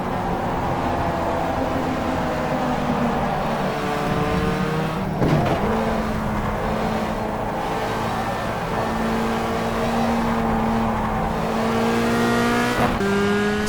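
A race car in the rFactor 2 sim racing game holds a loud, sustained engine drone that climbs through the gears, with two sharp shift drops and a brief tire squeal along the way.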